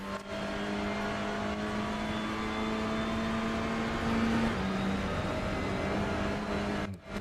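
Sustained droning race car engine note from TCR cars in a sim racing game, a steady tonal hum that shifts pitch slightly partway through, heard alone without commentary.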